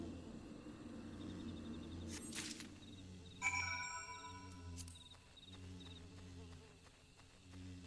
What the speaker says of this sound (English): At least that friggin' giant bee didn't come after me.